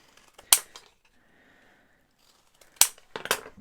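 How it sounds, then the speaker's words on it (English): Big scissors cutting card for handmade calling cards: a sharp snip, a quiet pause, then several more crisp snips close up. "Use my big scissors."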